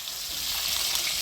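Fish fries in oil with a bright, continuous crackling sizzle, close and even for about a second, with no voices.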